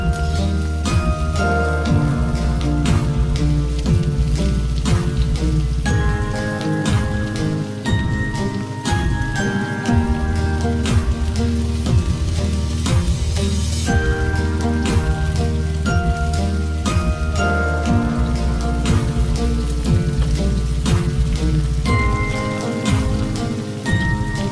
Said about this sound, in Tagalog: gisa lang ng bawang, sibuyas at luya